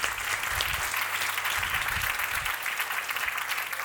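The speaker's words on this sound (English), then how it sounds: "Give a round of applause to Sabine." Applause from the audience at a TEDx Women event: dense, steady clapping, moderately loud and continuous, with no talking over it.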